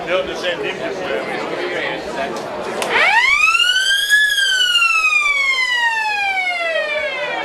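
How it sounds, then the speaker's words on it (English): A wailing police-type siren rises sharply and then holds a long sweeping tone, loud and close, after a stretch of crowd chatter and background noise at a rugby league match between Swinton and Featherstone. "Sounds like a police siren, that one."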